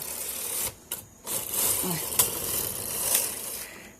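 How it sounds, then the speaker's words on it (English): A domestic knitting machine's carriage drawn across the needle bed to knit a row at the start of a hem: a loud, close, continuous mechanical whir and rattle with clicks, a brief pause, then more steady clatter. "I've got to knit back from upper working position."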